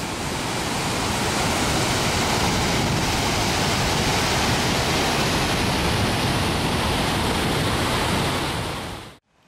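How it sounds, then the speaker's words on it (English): River flowing through Scottish moorland near Glen Feshie, a broad, steady rush of water that holds constant and loud for the whole stretch before cutting off abruptly at the end, with no voices. "That's the River Ayart."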